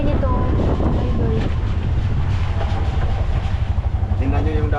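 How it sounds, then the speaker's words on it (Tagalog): Strong wind blows hard and steadily across the microphone with a dense, rumbling roar, while someone talks intermittently beneath it. "Malakas ang hangin nito"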